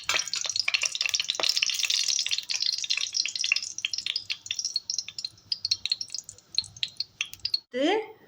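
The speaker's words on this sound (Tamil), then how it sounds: "எடுத்து வச்சுருக்க முந்திரியை அதில் போட்டு வறுத்து வச்சுக்க போகிறேன்." Loud crackling sizzle of cashews frying in hot ghee, dense at first, then thinning to scattered pops and spits, with a brief voice at the end.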